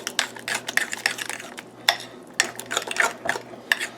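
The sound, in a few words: stirring and mixing tzatziki sauce in a bowl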